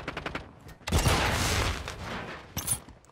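A loud explosive burst from a flashbang in Call of Duty: Modern Warfare 2, preceded by a quick run of gunshots and followed by a rumbling tail and another sharp crack.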